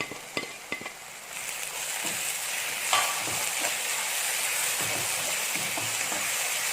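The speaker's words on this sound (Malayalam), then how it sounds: "ഇതിലോട്ട് നമുക്ക് എടുത്തു വെച്ചിരിക്കുന്ന ഈ ചതച്ച പച്ചമുളക് ഇതിലോട്ട് ഇട്ട് കൊടുക്കാം." Crushed green chillies fry in a pan for a beef dish, and a bright steady sizzle rises after a few sharp clinks of a spoon against the pan. Stirring scrapes continue over the hiss, with no voices.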